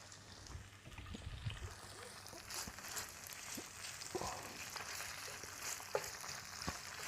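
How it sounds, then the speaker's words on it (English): Garlic and anchovies sauté in a pan with a soft, steady sizzle, quiet and close, broken by a few small pops and crackles. "So just a quick sort of saute"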